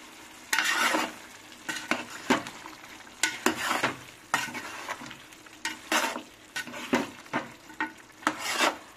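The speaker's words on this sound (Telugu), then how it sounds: "పైనుంచి అట్లా అట్లనే ఉండు, నేను కలుపుతాను." Curry being stirred in a pan, rough scraping strokes of a spoon against the metal in an irregular rhythm over a low sizzle, close and moderately quiet with no voices.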